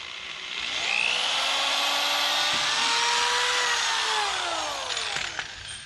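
A power drill boring a hole through wood for a 3/8 bolt while building a potting bench, one steady whining run lasting several seconds and rising in pitch, close and loud, with no talk.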